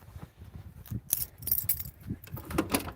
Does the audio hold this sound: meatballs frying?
no